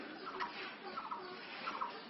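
Chickens at a farm cluck softly and continuously while being fed, several birds murmuring at a low, steady level with faint distant quality.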